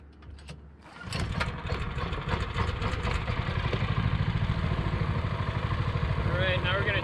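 Longtail mud motor with an 8 inch Hurricane prop on a boat, starting up after a second and settling into a loud, steady clattering run that builds slightly toward the end.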